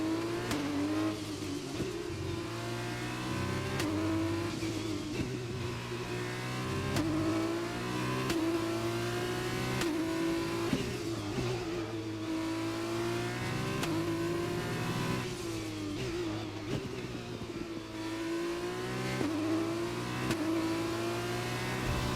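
An F2 race car engine in the F1 2021 video game, screaming loud and continuous as it climbs through the revs with a series of gear shifts and dips, no voices over it.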